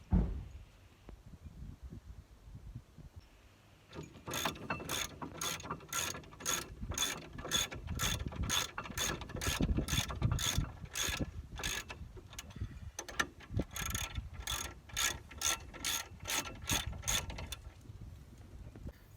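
A ratchet clicking steadily as the brake caliper bolts on a Mercedes R170 SLK front brake are driven back in, long bursts of rapid rhythmic pawl clicks close by with brief pauses between runs.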